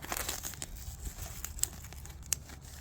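Fabric flank material of a tactical plate carrier folded over by hand, close, soft crinkling and rustling with a couple of sharp crisp snaps.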